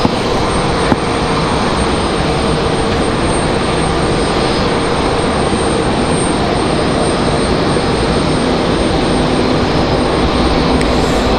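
An Airbus A321 jet at Raleigh-Durham airport gives a loud, continuous broadband engine roar that stays steady and close for the whole stretch.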